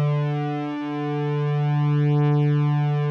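Two Retro Synth oscillators in Logic Pro blended evenly into one sustained synth tone, a steady buzzy drone with a gentle sweeping, phasing shimmer, heard alone for about three seconds.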